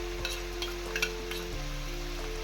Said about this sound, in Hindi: लो फ्लेम पे रख के इसको फ्राई करना है।